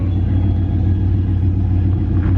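Buick Turbo Regal cruising, heard from inside the cabin as a steady, loud low engine and road rumble with no pauses or speech.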